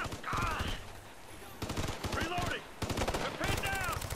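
Gunfire in the video game Ghost Recon: Future Soldier, several sharp shots in a quick irregular burst, faint and mixed under voices of players talking.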